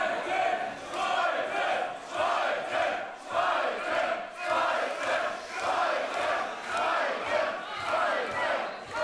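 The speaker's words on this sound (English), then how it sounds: "Those Spalter chants broke out, but they weren't in a mood to listen" A wrestling crowd at a GWF show chants in a loud, rhythmic, repeating cadence, each shout pulsing roughly once a second across a dense roar of voices.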